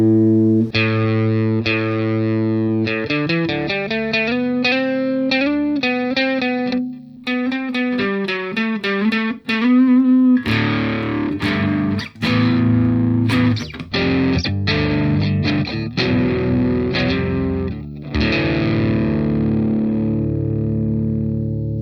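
Distorted electric guitar through a Boss DS-1 distortion pedal plays a run of crunchy riffs and chords, loud and saturated, with short pauses between phrases.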